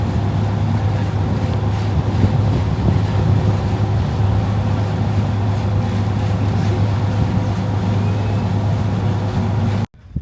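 A motorboat ride on a lake, loud steady engine drone with strong low hum, wind buffeting the microphone and water rushing, cutting off abruptly at the end; no one speaks.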